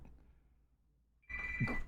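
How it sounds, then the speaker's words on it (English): Telephone ringing in a repair shop, a sudden loud electronic ring that cuts in after a quiet stretch and continues steadily to the end. "Oh, got a phone call."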